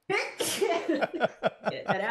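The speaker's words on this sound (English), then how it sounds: "I'm going to probably sneeze." A single sharp sneeze from a podcast guest, loud and close, quickly followed by conversational speech.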